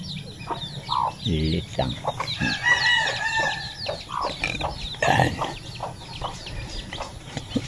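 Baby chicks peep in quick, high chirps among clucking chickens, a busy close-up flock sound with a voice speaking briefly over it.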